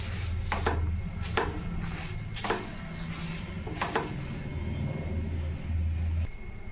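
Sesame seeds and peanuts mixed together for laddu, with several dry scraping, rustling strokes against a low steady hum, close and moderately loud.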